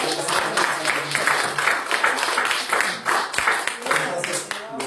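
A church congregation claps together after a call from the pulpit, a dense, steady patter of many hands filling the room, with voices talking over it.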